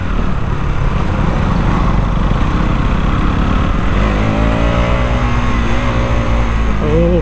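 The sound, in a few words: KTM Duke 200 motorcycle engine pulling after a downshift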